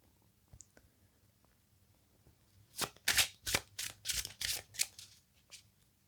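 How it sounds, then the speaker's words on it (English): Oracle cards riffled and shuffled by hand, a burst of crisp, rapid papery flutters and slaps after a quiet start, close and fairly loud with no voices. "We'll get out some more oracle cards."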